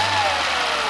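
Peugeot 208 car engine idling unevenly, a steady close mechanical hum with a slight wavering tone and no voices over it.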